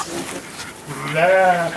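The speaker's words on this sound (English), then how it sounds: "Oh, it might be the sheep." Sheep on a farm among hay bales gives a single wavering bleat that rises over a second of faint outdoor background noise, fairly close to the listener.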